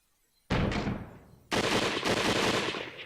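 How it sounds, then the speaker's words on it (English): Gunfire in a Japanese historical visual novel set in Kyoto: a loud, close shot bursts out and decays, then a second heavier blast follows with a long rumbling tail. "A gunshot sounded from the entrance."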